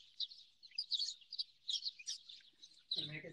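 Birds chirp and tweet in a backyard garden on a clear day, a busy run of small high calls near the microphone, followed by a brief low voice at the end.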